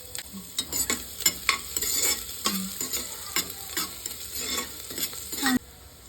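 Curry leaves, garlic, onion and a finely chopped chili frying in oil for baby food: a bright sizzle broken by frequent sharp scraping stirs of a spoon in the pan, close and busy.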